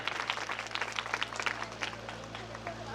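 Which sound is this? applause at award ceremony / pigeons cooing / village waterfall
applause at award ceremony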